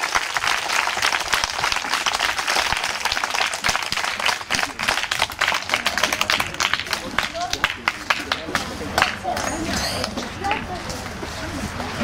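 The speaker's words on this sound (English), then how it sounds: "Can you clap for Mr. Adamu Kasim Koko?" Schoolchildren at a primary school clap together in a dense, sustained round of applause, close and loud throughout, with excited voices mixed in.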